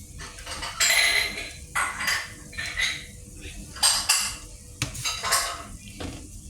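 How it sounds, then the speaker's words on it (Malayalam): Homemade Kerala-style chicken curry stirred in a pot, with repeated clanks and scrapes of a spoon against metal in uneven bursts over a faint sizzle. "അതായിട്ട് ഒന്നുകൂടി ഇളക്കി കൊടുക്കും"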